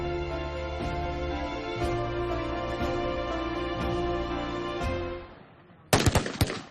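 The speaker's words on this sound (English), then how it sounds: "Bullets raced down range as each airman took aim from the line, firing at their targets." Airmen firing at targets on an outdoor shooting range, a loud sustained barrage of overlapping gunshots with rolling echoes, fading out before a final burst of sharp nearby reports.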